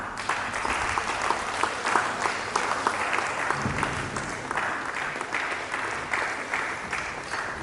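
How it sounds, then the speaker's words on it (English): A conference audience at a stakeholders' roundtable applauds steadily for several seconds, dense overlapping claps from many hands filling the room at an even level throughout. "that clapping was for the GBC"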